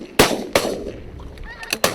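Geese honk during a goose shoot on Orkney, with a few sharp, loud bangs that decay quickly and scattered nasal honks between and after them, heard outdoors.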